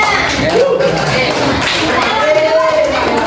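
A class of students claps hands in a classroom during a microteaching lesson, a steady, dense patter of many hands mixed with chatter and voices throughout.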